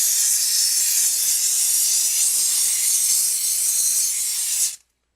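Steam cleaner blasting steam over 200 degrees onto a motorcycle wheel: a loud, steady, close hiss that runs unbroken for about five seconds and then cuts off abruptly.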